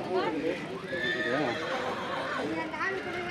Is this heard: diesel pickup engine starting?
no